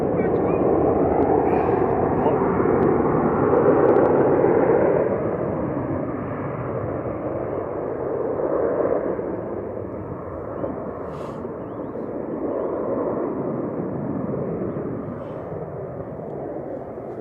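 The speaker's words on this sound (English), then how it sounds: "Sun Express 737-800 TCS-PZ lining up to go back to Antalya with flight 595 next." A Sun Express Boeing 737-800 on its takeoff roll at Manchester Airport, bound for Antalya, makes a sustained, heavy engine rumble that swells early, eases, then surges again in broad waves.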